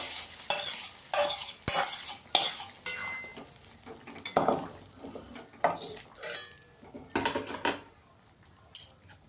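Sautéed ginger and green chili are stirred into a simmering fish curry in a metal pan, with a spoon scraping and clanking against the pot and a light sizzle running underneath, in irregular bursts.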